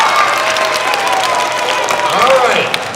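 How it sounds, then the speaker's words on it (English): A school audience in Henderson, Nevada breaks into a round of applause at a children's music show, dense continuous clapping with some cheering from many hands, fairly loud and filling the whole moment. "a round of applause"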